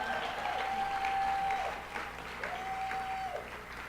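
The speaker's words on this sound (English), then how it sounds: "Give them a nice round of applause, please." Audience applause for camp staff at an awards ceremony, a steady wash of many hands clapping in a hall, moderately distant and continuous throughout.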